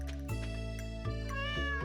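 A cat in the farming video game Stardew Valley lets out a clear, drawn-out meow, close and fairly loud, over a steady backdrop of game music.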